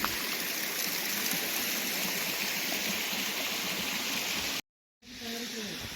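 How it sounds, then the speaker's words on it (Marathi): Water from natural springs by a river runs continuously in a steady, close rushing stream, broken by a brief moment of silence before the flow resumes. "बघा इकडे झरे आहेत हे दुसऱ्या बाजूने झरे आहेत"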